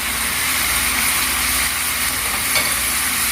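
Chicken qorma with spices fries in a pot with a constant, close, dense sizzle and crackle, steady throughout with no talking.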